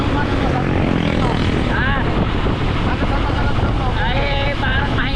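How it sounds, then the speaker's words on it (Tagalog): An old boat engine runs weakly with a rough, steady drone, heavily buffeted by wind noise, with a voice talking over it. "Parang mahina ang makina sa berde."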